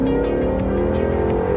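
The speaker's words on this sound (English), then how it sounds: "It's the roar, the iconic roar I should say" Deep, steady V8 engine roar from a 2016 Ford Mustang GT California Special, heard close by as a loud, continuous idle rumble with no talking.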